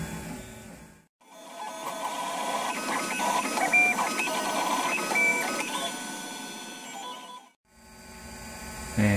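A large DIY 3D printer with a 1200 by 1200 build area hums and whines through its stepper motors as it finishes a sword handle. The busy mechanical tones carry on for several seconds, with brief pauses near the start and end.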